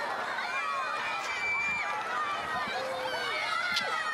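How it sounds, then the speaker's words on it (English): Big roadside crowd cheering and shouting at the morning rollout of a Tour of Britain men's cycling stage, a steady, lively roar of many voices with whistles and whoops throughout. "they're all doing a great job of cheering there"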